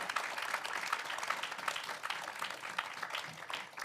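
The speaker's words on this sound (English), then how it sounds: "Can I get a massive round of applause for our fantastic guests?" Faint, steady clapping from an audience thanking guests after a panel talk at a Super Smash Bros. Ultimate team battle grand final, with no speech over it.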